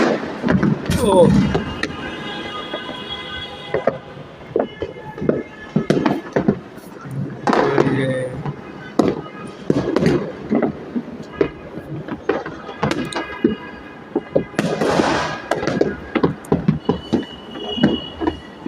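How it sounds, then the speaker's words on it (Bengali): New Year fireworks fired from house rooftops in Bangladesh burst in a dense, continuous barrage of loud bangs and crackles, some close and sharp, others distant. "হ্যাপি নিউ ইয়ার উপলক্ষে দেখেন কি পরিমাণ আতশবাজি ফুটছে।"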